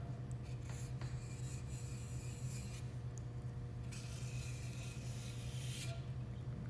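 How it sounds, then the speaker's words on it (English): Excess clay trimmed off a freshly thrown bowl spinning on a potter's wheel, a faint continuous scraping and rasping over a low steady motor hum, quiet and close, without speech. "We just want to chop off as much extra clay as we can"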